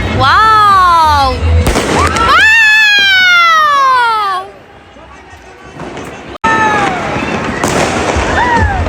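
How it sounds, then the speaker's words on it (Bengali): Fireworks and firecrackers burst and whistle close by at New Year's midnight, with rising whistling streaks, sharp cracks and loud booms repeating throughout, while voices shout and talk over the noise. "একটার পর একটা বোমা ফুটাইতেছে, আতশবাজি ফুটাইতেছে"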